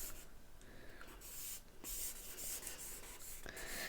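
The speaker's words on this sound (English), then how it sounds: "I'm going to use a smaller piece of charcoal again. This is a natural one." Natural charcoal stick sketching on paper, a steady close scratchy rubbing with short strokes and brief pauses, quiet and alone.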